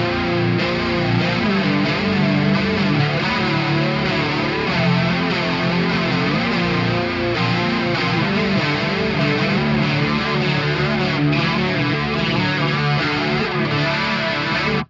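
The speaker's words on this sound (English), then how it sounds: "I love a little bit of chorus with a distorted channel" Heavily distorted electric guitar through a Mesa Dual Rectifier amplifier with a shimmering chorus effect plays continuously in a 2000s nu-metal style, thick and loud, with chords ringing throughout.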